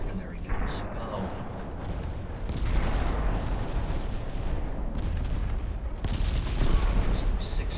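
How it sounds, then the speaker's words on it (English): Warship main and secondary guns fire in Ultimate Admiral Dreadnoughts, a series of heavy booming reports with rumbling tails that overlap into a dense, continuous barrage, loud and close throughout. "Main guns, secondary guns, go."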